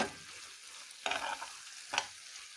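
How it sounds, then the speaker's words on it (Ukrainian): Chicken livers and hearts sizzle steadily in a frying pan, broken by two short scraping bursts as a utensil stirs them, close and fairly quiet. "Перемішуємо."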